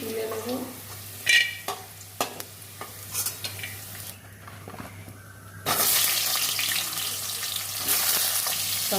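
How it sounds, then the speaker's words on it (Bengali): Bitter gourd frying in hot oil for shukto: scattered spatula clicks and stirring scrapes, then a loud, steady hiss of sizzling oil that swells and keeps going to the end. "শুক্তোর জন্য উচ্ছে ভেজে নেব"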